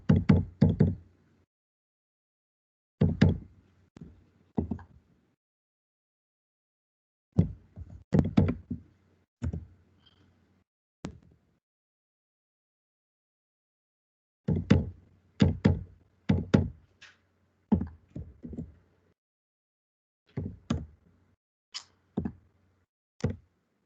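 Keys on a computer keyboard pressed in short clustered bursts separated by pauses, crisp close taps at moderate loudness with no talking.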